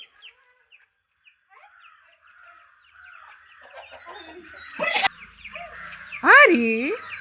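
Clucking and cheeping chickens near a chick sound in short calls that build from faint to loud, ending in a sharp squawk, while people talk nearby.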